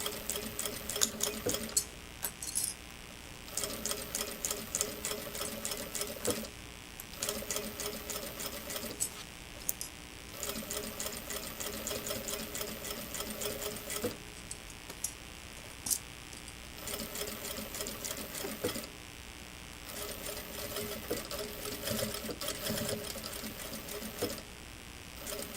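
A sewing machine runs in steady bursts while stitching around a handmade shoulder bag, with short pauses between runs as the work is turned, close and fairly loud throughout.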